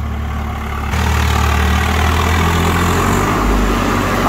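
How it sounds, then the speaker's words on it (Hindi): A farm tractor runs in two-wheel drive in a field, its engine droning steadily and loudly at close range with a low, heavy rumble that rises slightly after the first second and holds constant. "ये 2-व्हील में भाई ट्रैक्टर चल गया"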